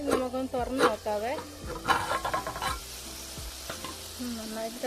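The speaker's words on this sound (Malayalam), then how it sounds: "നന്നായിട്ട് തിളച്ചിട്ടുണ്ട്." Kerala-style prawn roast curry bubbles and sizzles in a pan, a steady close simmer with scattered stirring clatter throughout, without speech.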